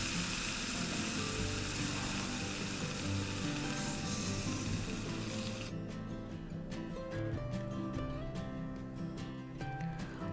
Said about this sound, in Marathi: आता यावरती आपल्याला जे तांदूळ आणि मूग डाळ आपण जे भिजत ठेवलेलं आहे ते टाकायचं आणि व्यवस्थित परतून घ्यायचं